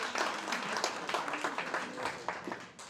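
A modest audience at a talk on Ukrainian wartime photography applauds the program's supporters, soft scattered clapping that holds steady for a few seconds before tapering off.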